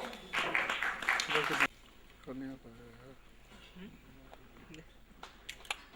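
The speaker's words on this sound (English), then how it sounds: "Let's give it a warm round of applause." Applause breaks out from the audience at an award function in New Delhi, a dense burst of clapping for about a second and a half before it cuts off sharply. A few faint voices and rustles follow in the quieter room.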